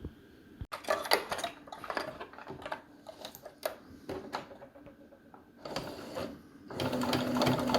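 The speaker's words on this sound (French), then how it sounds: "On va passer un point droit à la machine en haut du bord à environ 1 cm en utilisant le bras libre." A sewing machine running a straight stitch along the top edge of a fabric basket, using the free arm. The motor whirs steadily and close-up in several runs, with a short stop near the start and a louder stretch at the end.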